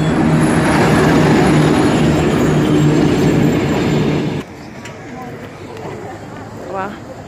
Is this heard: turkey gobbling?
no